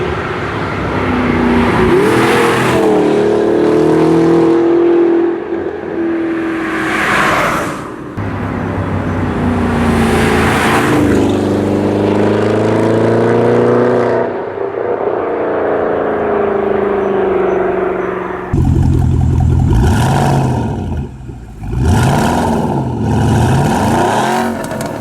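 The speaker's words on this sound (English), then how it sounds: "I decided I would come and film the Gemballa Mistrale Panamera on the side of the road here" Gemballa Mistrale Porsche Panamera engine revving hard at a roadside, loud repeated surges of revs and accelerating passes with a brief drop between bursts and sharper, crackling revs toward the end.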